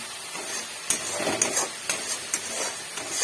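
Masala is fried down in a pan for kochur loti with prawns, a moderate hissing sizzle punctuated by regular spatula strokes and scrapes against the pan.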